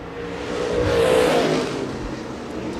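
A super late model race car runs a qualifying lap at Shelby County Speedway, its engine swelling in a steady roar that peaks midway and then eases slightly, heard alone without talk.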